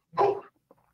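A dog barks once in an animated sitcom: a single sharp, fairly loud bark, followed by a few faint, brief trailing sounds and then quiet.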